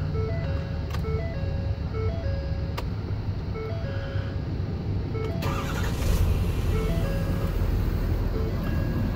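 A 2014 Ford F350 pickup turns over and fires up, settling into a steady, fairly quiet idle. A series of electronic chimes plays over the engine sound near the start.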